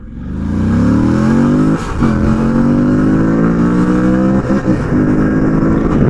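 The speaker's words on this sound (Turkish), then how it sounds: "şimdi bir sıfır 100 hızlanma deneyeceğim güzel dostlar. Arkam müsait, önüm müsait ve açıyorum gazı." A Moto Guzzi V85 TT motorcycle accelerating hard from standstill towards 100 km/h, its engine note climbing loudly through the revs with distinct dips at each gear change, recorded close with steady wind rush.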